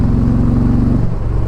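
Engine of an Indian Pursuit Power Plus 112 motorcycle pulses loud and close with a low, throbbing V-twin beat, then the tone shifts as the throttle is opened.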